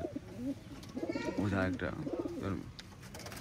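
Pigeons coo in soft, repeated rolling calls, close by and fairly quiet. Someone talks over and between them.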